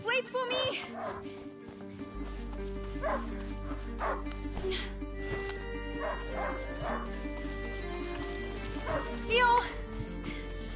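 A hunting dog barks and yips several times in A Plague Tale: Innocence, the short bursts mixed with game sound effects, a steady low hum and voices talking over them.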